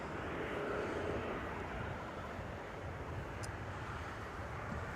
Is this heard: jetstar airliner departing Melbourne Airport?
yes